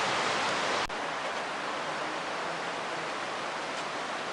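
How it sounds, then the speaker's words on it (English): Merced River rapids in Yosemite rushing loudly and steadily nearby, a broad continuous roar of whitewater with a brief bump partway through. "We're right beside the Marset River Rapids."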